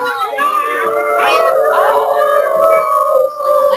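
Several young voices howl together in long, wavering, rising and falling tones, imitating dogs, loud and close, with overlapping pitches.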